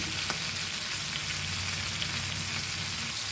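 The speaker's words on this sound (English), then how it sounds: "The prawns also I am frying it crispy." Prawns fry in hot oil with a steady, dense sizzle and crackle, close up and continuous throughout.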